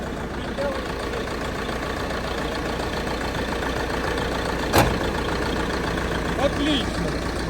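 Tractor engine idling steadily outdoors in deep frost at minus fourteen, now warmed up; a continuous low mechanical rumble runs throughout, with someone speaking over it and a couple of brief clicks near the end.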